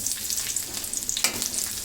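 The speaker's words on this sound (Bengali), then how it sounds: "মরিচটা একটু ভাজা হয়ে গেলে এখানে দিয়ে দিচ্ছি প্রায় দুই টেবিল চামচ রসুন কুচি" Chopped garlic and three dried red chillies fry in hot oil in a pan, a dense close crackling sizzle with a sudden louder burst as the garlic goes in, and no talk.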